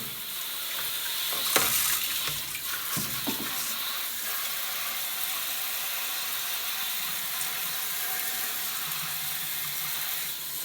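Cold water runs into a Hotpoint Supermatic Deluxe twin-tub washing machine, a steady hissing gush at moderate distance, with a few brief clunks near the start before the flow settles into an even wash of sound.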